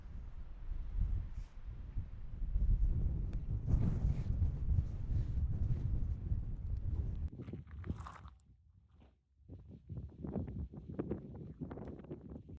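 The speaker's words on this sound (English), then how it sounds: "It's a little windy" Wind buffets the microphone outdoors beside a reservoir near a campsite around Moab, a loud low rumble that drops briefly before gusting back in.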